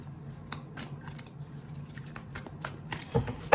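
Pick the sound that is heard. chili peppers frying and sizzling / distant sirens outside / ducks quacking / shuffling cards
shuffling cards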